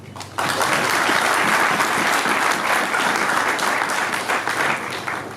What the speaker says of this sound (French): Et donc c'est de là qu'est parti les noms pacificateurs pour lesquels vos applaudissements sont requis